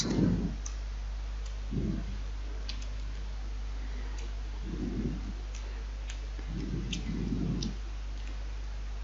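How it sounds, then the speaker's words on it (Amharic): Computer mouse clicks while working in a Microsoft Excel spreadsheet, several sharp, close clicks spaced irregularly over a steady low electrical hum, with no talking. "አሁንም እዚህ ጋር ክሊክ እናደርጋለን"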